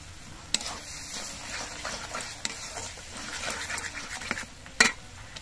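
Spice paste (masala) for a jackfruit kofta curry sautés in a pan, giving a steady close sizzle with spoon scrapes and occasional sharp clinks against the pan.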